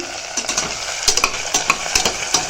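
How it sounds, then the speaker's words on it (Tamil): Chopped onion, tomato, capsicum, beans, carrot and green chilli sautéed in a pan for barnyard millet kichadi: a loud, close sizzle with quick, repeated scraping stirs of a spoon against the pan. No talking. "வெங்காயம் தக்காளி கொடமிளகா பீன்ஸு கேரட்டு பச்சை மிளகா எல்லாத்தையும் போட்டு"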